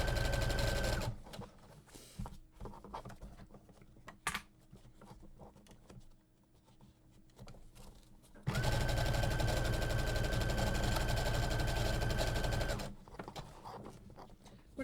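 A sewing machine stitches a half-inch seam through a foam-stabilized Swoon Ethel tote bag. It runs in a loud steady burst, falls quiet for several seconds of faint handling, then runs in a second long, even burst.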